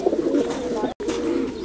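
A breeder pair of black American fancy pigeons on a pigeon farm in Multan, Pakistan, coo in soft, rolling murmurs close by, broken by one sudden brief dropout.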